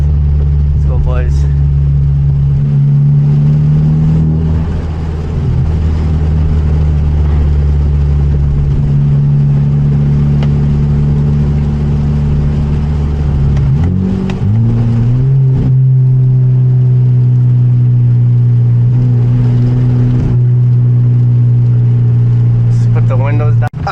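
Manual Hyundai Genesis Coupe with an aftermarket exhaust driving at night in the rain, a loud, steady exhaust drone that climbs in pitch through gear shifts before settling, with someone talking throughout.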